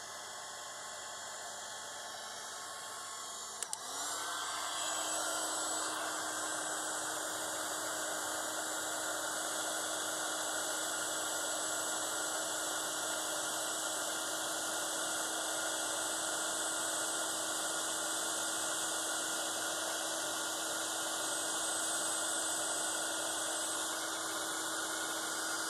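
A heat tool blowing hot air over an embossed specimen card switches on after a short click and then runs as a steady, loud, whooshing whine with a constant hum, alone for the remaining twenty seconds.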